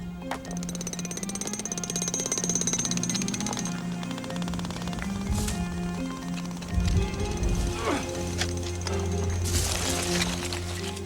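Power tools hammer away at rock while digging out a Tyrannosaur fossil in hot badlands, a continuous loud rattling drone with occasional sharper knocks and brief voices.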